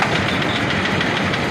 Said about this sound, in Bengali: গাড়িটা অবশ্য স্টার্ট দেওয়া হচ্ছে।